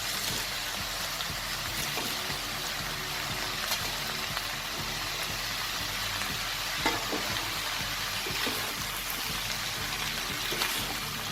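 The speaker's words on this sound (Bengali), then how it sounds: "এবার আমি লম্বা লম্বা করে কেটে রাখা ঝিঙে দিয়ে দেবো, আর একটু বড় বড় করে কেটে রাখা বাঁধাকপিটাও দিয়ে দেবো।" Strips of ridge gourd and chunks of cabbage fry in a pan for a Bengali mixed-vegetable dish. A continuous dense sizzle with faint stirring scrapes runs at an even level, close by, with no talking.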